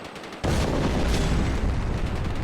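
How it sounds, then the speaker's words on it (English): Heavy Marauder cannon fire in the Starship Troopers video game, with a sudden loud boom followed by a sustained roar of rumbling blasts that stays dense and close throughout. "Thanks to the Marauder improvements, we now have cannons."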